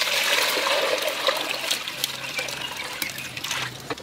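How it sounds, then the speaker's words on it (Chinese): Water poured into a cooking pot while making zongzi, a steady splashing trickle that runs close and loud for about four seconds, with no talking. "锅中加水"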